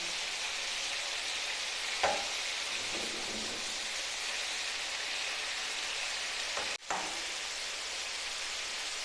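Chicken masala wings frying in a pan give off a dense, steady hiss of sizzling with a couple of soft knocks, constant and close, with no voices.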